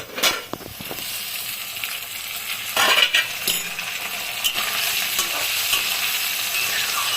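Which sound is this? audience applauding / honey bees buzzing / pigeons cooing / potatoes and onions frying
potatoes and onions frying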